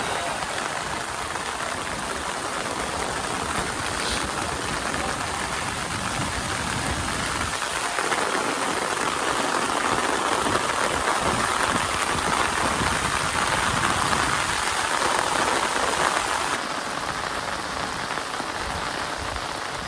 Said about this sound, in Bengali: মুষলধারা বৃষ্টি শুরু হয়েছে।